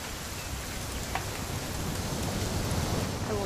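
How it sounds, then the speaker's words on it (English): In What Remains of Edith Finch, rain pours down as a dense, unbroken wash that swells slightly toward the end, with no talking heard. "It's gonna rain the whole weekend,"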